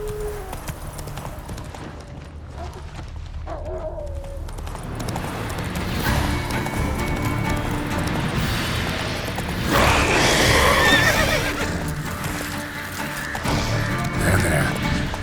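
Hooves of a horse galloping at a steady clip-clop pace in The Witcher 3, loud and close, with a brief neigh, growing busier and louder midway.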